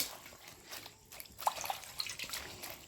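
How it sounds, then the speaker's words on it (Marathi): Sorrel leaves being rinsed in clean water give faint, close splashes and drips, with soft trickling and a few brighter droplet sounds. "हा आंबट चुका आता मी छान स्वच्छ पाण्याने धुते"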